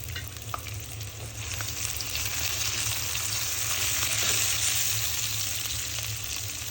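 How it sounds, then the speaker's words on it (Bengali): Chopped onions and green chillies fry lightly in oil in a pan, a continuous close sizzle that holds steady and slightly builds, with no talk. "পেঁয়াজটাকে এখন আমি হালকা করে একটু ভেজে নিব।"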